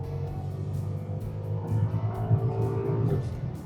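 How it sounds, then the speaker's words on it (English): Mercedes-AMG V8 car accelerating hard, a close, continuous engine roar that builds and grows rougher as revs climb, with no voices over it. "So it gives that V8 an opportunity to pull harder for longer."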